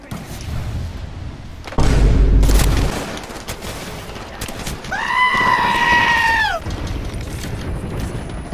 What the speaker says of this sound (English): That airstrike might have saved my life.